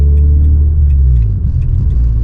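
A Renault Clio Sport 2.0 16V 182 hp engine rumbles steadily and loudly up close, a deep continuous drone with slight variation in pitch.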